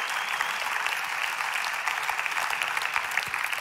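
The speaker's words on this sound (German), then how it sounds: "lass Gott einen Applaus geben" Sustained applause from a church congregation at a Sunday night service, a dense, steady clatter of many hands clapping at moderate loudness without pause.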